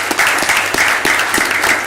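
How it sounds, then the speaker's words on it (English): Applause at a board of directors meeting after staff service anniversaries are announced, a steady dense wash of clapping from a seated group, continuous and fairly loud for the whole stretch with no talk over it. "So y'all give them a round of applause."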